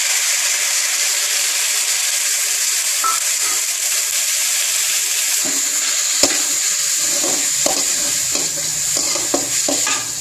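Moong dal sizzling in a pan, a constant hiss of frying with scraping stirs of a spoon that grow more frequent toward the end, close and fairly loud with no talk.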